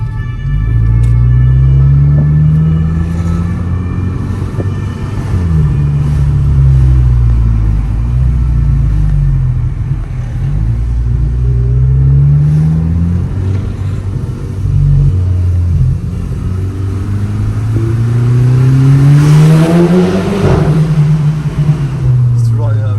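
A Volkswagen Golf 6 GTI Edition 35 engine rumbling loudly up close, with repeated revs rising and falling and a stronger rev climbing near the end.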